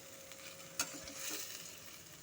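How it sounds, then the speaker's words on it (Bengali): Potato and cauliflower being stirred in hot frying oil over medium heat, a soft steady sizzle with one spoon scrape, quiet and close. "আলু ফুলকপিটাকে ভালো মতো করে আমি এখন নাড়িয়ে নেব তেলের সাথে"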